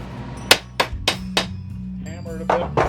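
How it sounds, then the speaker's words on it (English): A hammer strikes a bent metal rod clamped in a vise, about eight sharp ringing blows in an uneven rhythm, close and loud, over a low background hum. "hammer it a bit"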